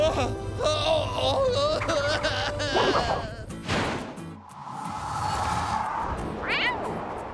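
A kitten in a cartoon meows in a few high, wavering cries amid busy background music and sound effects, with a thin mew near the end.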